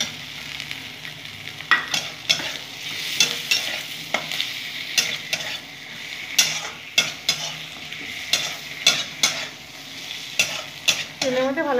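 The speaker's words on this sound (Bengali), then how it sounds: "তেলের মধ্যে ভালো করে ভেজে নেব" Tomatoes fry in hot oil with turmeric, Kashmiri chilli and pepper powder, a steady sizzle broken by repeated scraping strokes of a spoon stirring the pan, close and without talk.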